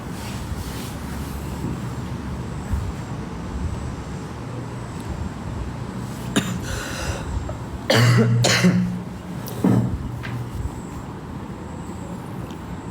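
Two or three harsh coughs stand out from a steady rumbling background of traffic, one hard cough followed by a smaller one.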